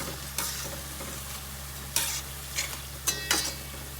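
Boondi for motichoor ladoo frying in hot oil over a low flame, a steady soft sizzle broken by a few brief stirring scrapes and clinks, close and fairly quiet with no one talking.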